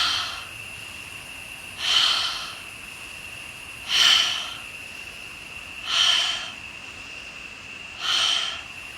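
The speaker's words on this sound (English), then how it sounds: "let's increase now the speed and intensity, inhaling deeper, exhaling out of the mouth" Fast, forceful breaths exhaled through the mouth during a guided breathwork session, four strong rhythmic exhales spaced about two seconds apart, close and breathy, with no voice over them.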